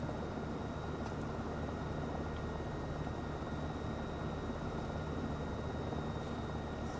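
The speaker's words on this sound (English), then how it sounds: "Nothing more relaxing than flying a helicopter." A helicopter in a flight simulator video game, flying alongside a river, gives off a constant, moderately quiet rotor and engine hum that holds even and unbroken throughout.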